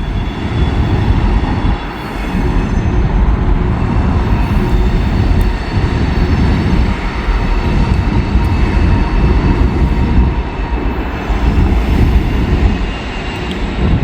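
An Amtrak train rolls past on elevated tracks, a loud, sustained rumble with rhythmic wheel clatter and metallic screech that stays steady for the whole stretch, with no voices.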